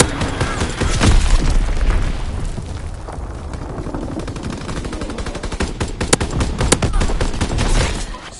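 Strafing-run gunfire in a video game: a long, loud, dense burst of rapid machine-gun fire with booming impacts, continuing almost without pause and rising again toward the end.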